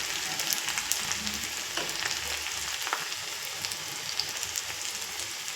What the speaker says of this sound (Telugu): ఇవి వేగుతూ ఉన్నాయి కదండి.